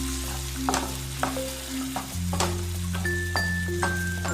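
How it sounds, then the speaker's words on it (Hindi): Spice masala frying in a pan as tomato paste is added and stirred in, a steady sizzle with scraping and clinking from the spoon, plus a faint electronic tone in the background, no talking. "हम टमाटर का पेस्ट डाल देंगे, मिक्स कर लेंगे"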